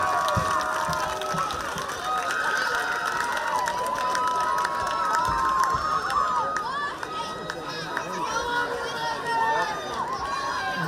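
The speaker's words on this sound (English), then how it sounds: "one last round of applause." A crowd at a high school homecoming court ceremony during a football game cheers and claps for the king and queen, with shouting and chatter over a broad wash of noise, loud and sustained.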